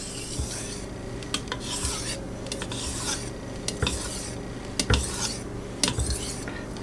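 Kitchen knife drawn repeatedly across a Chroma whetstone with an angle-guide clip fitted to its spine, giving close, rhythmic scraping strokes with light metallic clicks and no talk.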